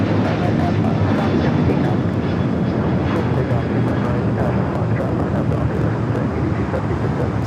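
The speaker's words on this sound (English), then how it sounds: "Next takeoff, Alaska Airlines Flight 614 heading to Seattle, the 737-900 ER" An Alaska Airlines Boeing 737-900ER bound for Seattle takes off at LAX, its engines a loud, steady, close roar throughout, with a voice talking over it.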